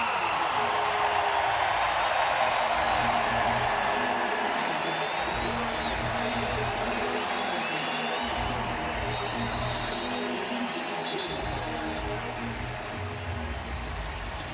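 Stadium crowd at a Kentucky vs Vanderbilt college football game roaring and applauding for Diego Pavia as he leaves the field, a steady broad wash of cheering that holds throughout with faint voices under it.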